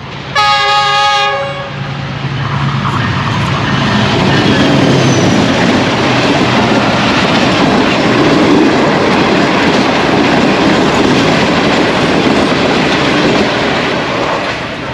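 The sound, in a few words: Green Line express train 6 Down speeding through Gujrat railway station, Pakistan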